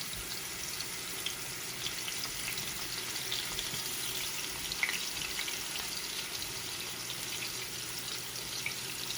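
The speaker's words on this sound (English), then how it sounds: "And now I'm going to start to add my lamb chops." Lamb chops searing in a hot pan, a constant broadband sizzle with faint crackles, steady and moderately close, without talk.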